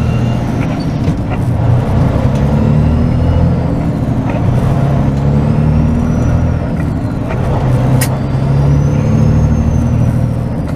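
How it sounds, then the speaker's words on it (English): Flatbed semi truck pulling out of an Indiana Toll Road toll plaza, its diesel engine droning steadily and loudly up close with low rumbling, a brief high hiss near the middle suggesting an air brake release. "And it helps if I put the truck in the right gear."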